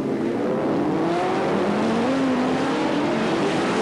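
Racing motorcycles at a 1988 British superbike race scream past, their engines loud and continuous as the pitch climbs and shifts while riders accelerate and brake.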